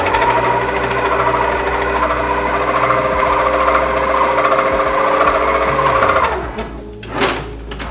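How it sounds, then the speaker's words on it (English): An electric stand mixer slowly churns white bread dough ingredients with a steady, loud motor whir and rhythmic knocking, then slows and briefly stops near the end, with a short clatter before it resumes. "now I'm just going to mix that in really slowly, just so all ingredients are incorporated"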